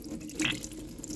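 Water running and splashing as it rinses mealybugs off a plant, a brief close gush and trickle with a small spattering burst.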